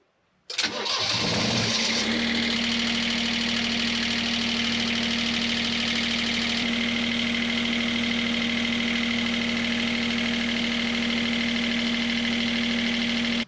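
A boat's main engine cranks and catches, then settles into a loud, steady running drone with a constant hum, close by and without speech.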